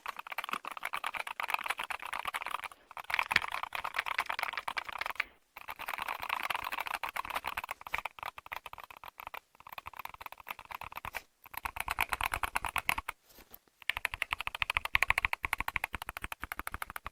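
Steady, fast typing on a mechanical keyboard fitted with Nebula Axis double-track magnetic switches, a dense run of close, crisp key clacks broken by a few brief pauses, with no talking.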